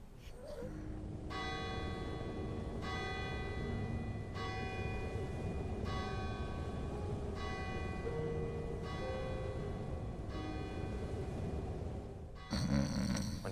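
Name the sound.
neighboring church bell chiming the hour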